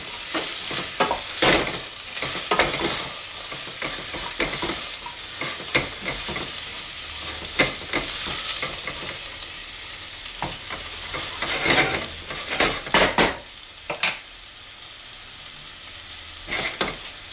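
Pork fillets fry in a pan while being stirred, with a continuous close sizzle broken by repeated scraping and clattering strokes of a utensil against the pan.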